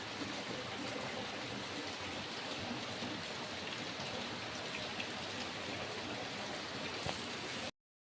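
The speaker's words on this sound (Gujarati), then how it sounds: "અત્યારે ધમધોકાર વરસાદ ચાલુ થઈ ગયો છે." Heavy rain pouring down at night, a dense, steady roar of drops on surfaces that continues unbroken before cutting off abruptly at the end.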